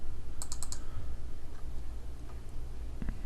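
Computer mouse clicks on the frame arrows in animation software tap out a quick cluster of sharp, close clicks, then a few sparse ones over a steady low hum.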